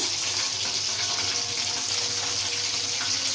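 Pieces of chicken katsu frying in hot oil, giving a steady, dense sizzle and crackle that runs close and loud for the whole stretch without any talk.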